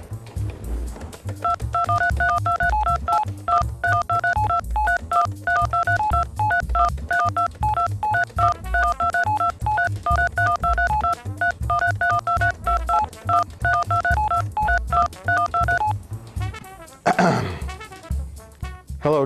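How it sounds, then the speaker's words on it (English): Steady touch-tone dialing beeps for a long-distance telephone call repeat in a long, even series over a low, rhythmic background, ending with a brief burst of other noise. "let's make long-distance phone calls on her telephone line."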